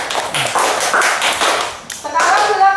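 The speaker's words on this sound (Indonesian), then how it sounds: "Tepuk tangan untuk kelompok" A class group presentation in a Christian religion lesson ends with brief clapping, a scattered patter of hands close by while voices talk over it.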